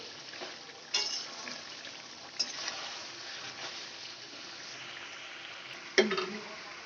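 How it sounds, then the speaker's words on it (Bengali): Chicken frying in a pan over a high gas flame for a dhaba-style chicken curry, giving a steady close sizzle with faint stirring clinks and a few sharp scrapes, no talk. "গ্যাসের ফ্লেমটা আমি বাড়িয়েই রেখেছি, তাও দেখুন চিকেন থেকে জল ছাড়তে শুরু করেছে"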